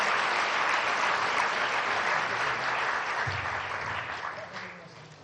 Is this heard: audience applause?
yes